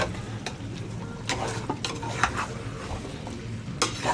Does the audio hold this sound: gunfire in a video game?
no